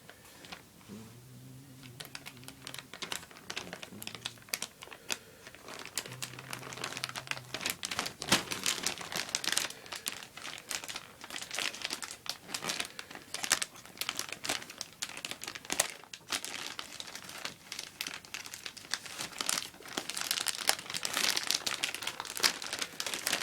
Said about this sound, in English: Let's see if we can slice this open here.